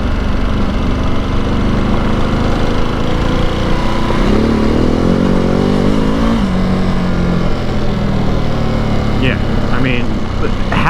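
A Ducati Multistrada Enduro motorcycle rides a dirt road with sandy patches. Its engine drones loudly and steadily, with the pitch rising midway as it accelerates, while a rider talks over the noise throughout.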